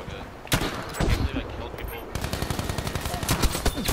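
Battlefield V gunfire: sharp single shots early, then a steady fast rattle of automatic fire building toward the end, loud and close, with players' voices talking over it.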